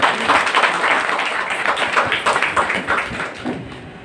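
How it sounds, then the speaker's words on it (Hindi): An audience at a DXN product talk breaks into loud, sustained clapping, many hands striking in a dense, rapid patter that holds steady and tapers slightly near the end. "आप सब कर रहे हैं, जोरदार ताली होनी चाहिए।"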